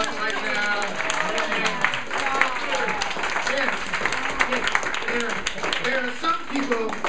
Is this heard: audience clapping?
yes